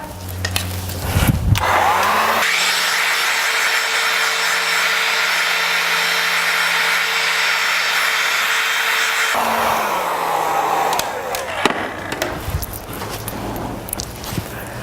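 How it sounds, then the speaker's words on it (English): A hair dryer switches on and blows with a steady whirring roar for several seconds, then cuts off, bracketed by handling clatter. "hairdryer"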